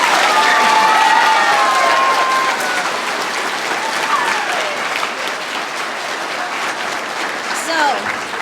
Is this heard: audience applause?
yes